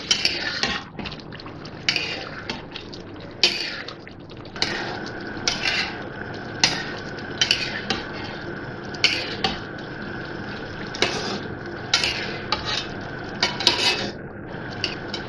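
Mutton roasts in a karahi as a metal spoon stirs it, making repeated sharp scrapes and clinks against the pan at an uneven pace over a soft, steady sizzle.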